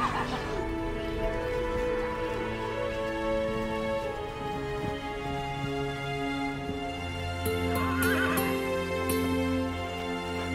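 A horse whinnies several times amid a busy outdoor backdrop on a New Caledonian cattle station where stockmen work from horseback, its calls moderately distant and partly masked by a broad hiss.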